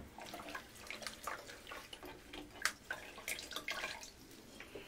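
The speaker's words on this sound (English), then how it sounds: "Submerge it in your water." Floral oasis foam held under water, giving faint, quiet trickling and dripping with small irregular splashes and bubbling over a few seconds, with no voices.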